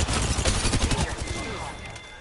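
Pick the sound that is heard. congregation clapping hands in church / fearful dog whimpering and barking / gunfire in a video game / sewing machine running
gunfire in a video game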